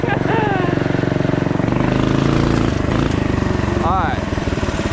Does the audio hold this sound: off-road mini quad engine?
yes